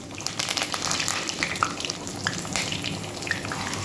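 Chana dal, mustard seeds, garlic and curry leaves temper in hot oil with a close, continuous sizzle and scattered pops and crackles, with no voices.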